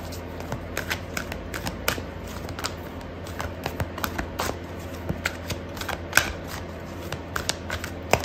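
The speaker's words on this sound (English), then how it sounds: "I'm gonna pull out a card for your advice" Tarot cards riffled and shuffled by hand in a quiet room, a steady run of close, crisp paper flicks and taps with no talking.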